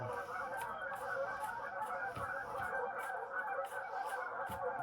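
A goose honks at long range, several faint separate calls spread across a steady outdoor background.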